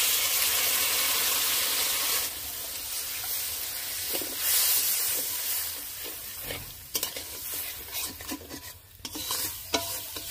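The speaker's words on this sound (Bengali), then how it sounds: "এবার এর মধ্যে পরিমাণ মতন জল দিয়ে দেবো।" Water hits hot fried spice masala in a pan, bursting into a loud hissing sizzle that gradually settles into bubbling and stirring clatter.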